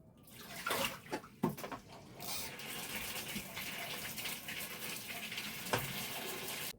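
Water runs steadily from a tap during a natural DIY skin-tightening remedy, a continuous splashing gush with a few louder bursts near the start and no talking.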